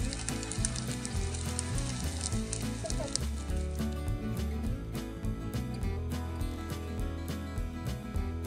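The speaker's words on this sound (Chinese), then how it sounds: "八颗都捏好，我们开始煎。" Korean sweet pancakes (hotteok) fry on low heat in a pan, giving a steady sizzle beneath continuous background music.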